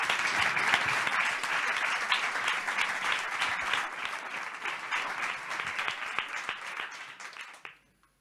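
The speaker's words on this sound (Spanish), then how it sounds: "Pues con este aplauso te subes a..." An audience at a live music event applauds after a song, a full, close round of clapping that thins slightly before stopping abruptly near the end.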